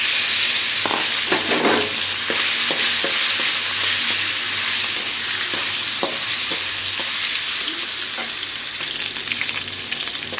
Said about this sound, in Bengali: আমি বাদাম মাছটা দিয়ে দিচ্ছি।